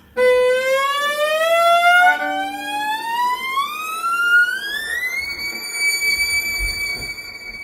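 A single bowed viola string slides slowly upward in a long continuous glissando, climbing to its highest sustained, piercing note, loud and close.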